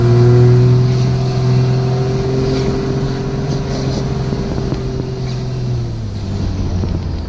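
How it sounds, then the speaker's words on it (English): Truck turbo whining steadily while cruising on the highway, a loud sustained drone with a rising-then-falling pitch layered over constant engine and road rumble, close and continuous throughout. "turbo's a little loud now to talk over"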